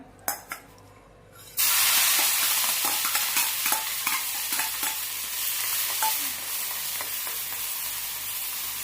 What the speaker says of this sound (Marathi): आपण हे मिरची लसूण आणि जिरे ते वाटून घेतलेलं आहे ते आपण तेलामध्ये टाकूया